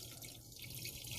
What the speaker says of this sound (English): So you can pour it out of this container.